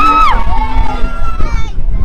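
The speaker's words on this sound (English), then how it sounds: "Man, that's a wild-ass crowd" Crowd at an outdoor music festival cheering and shouting in a dense, continuous roar, with whistles and high voices rising through it.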